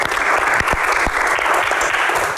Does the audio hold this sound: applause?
yes